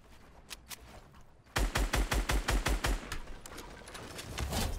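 Gunfire in the video game Fortnite: after a few faint, scattered shots, a loud rapid burst of about eight evenly spaced shots rings out, followed by softer trailing noise.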